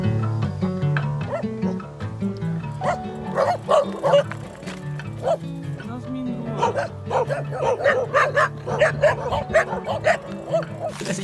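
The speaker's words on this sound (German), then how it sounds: "ich hatte Schiss vor den Hunden und die merken das, wenn man Schiss hat" Several dogs bark repeatedly and excitedly at a cyclist during an ultra-distance bike race from Spain to Romania, the barks coming in irregular bursts that grow busier toward the end, with wind and road noise underneath.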